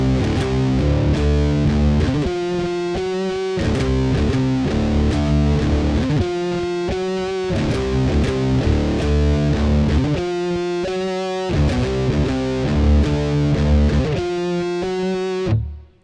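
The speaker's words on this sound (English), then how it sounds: "I'm gonna put on some distortion, play it for you." Heavily distorted electric guitar plays loud chugging chords and riffs with short pauses, continuous for the whole stretch before cutting off abruptly.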